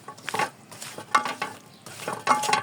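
Salt and spices are worked by hand into river tengra fish, with soft wet squelching and stirring strokes in a few uneven bursts, close and fairly quiet.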